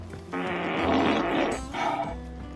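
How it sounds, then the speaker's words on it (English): An Alexa smart speaker plays a loud, drawn-out synthetic fart, a low rumbling blast that swells, wavers and trails off with a second shorter burst near the end. "Alexa, fart."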